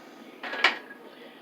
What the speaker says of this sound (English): I'm going to have to put this on a cookie sheet in the oven.